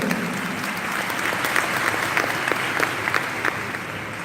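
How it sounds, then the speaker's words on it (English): Steady applause from a morning audience at a leadership talk, dense and even, filling the room for several seconds. "Give yourself a round of applause for being here with me this morning."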